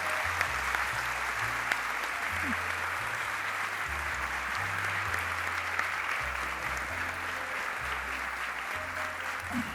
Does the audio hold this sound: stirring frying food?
no